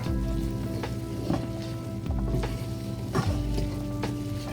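Black bean dip with lime juice being stirred in a hot pan, a steady close sizzle with soft scraping strokes repeating every second or so.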